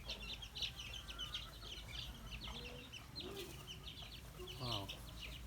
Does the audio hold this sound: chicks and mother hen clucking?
yes